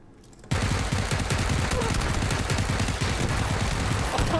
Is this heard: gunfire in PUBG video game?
yes